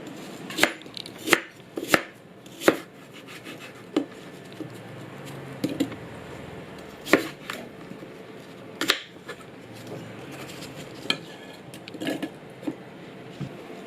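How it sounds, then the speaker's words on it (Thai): A knife chops food on a cutting board, sharp irregular taps coming in quick bursts and pauses, close and fairly clear. "แล้วก็หั่นเป็นชิ้นเล็ก ๆเนาะ"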